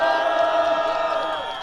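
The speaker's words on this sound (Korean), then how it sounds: "큰 박수로 맞아주십시오." Crowd cheering and applause at an emergency press conference at Dong-A University: a steady, dense roar of voices and whoops that holds level, then eases slightly toward the end.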